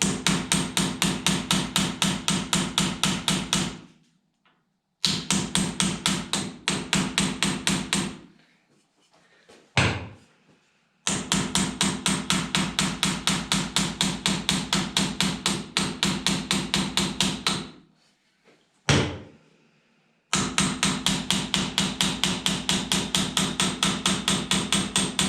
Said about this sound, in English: So I'll tap with a piece of aluminium on the top of the fork.